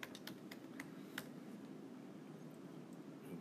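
Quick, light key clicks on a computer keyboard while data is entered into a spreadsheet, a few sharp taps early on and then faint scattered typing under a quiet room hiss.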